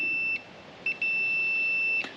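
A multimeter continuity beep, testing a lawn mower wire, sounds as a high steady tone, broken by a few short gaps and quick blips, then cuts off abruptly near the end.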